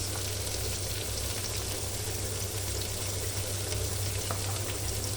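Garlic and onion fry in a small amount of oil, a steady close hiss with a constant low hum underneath, unbroken throughout.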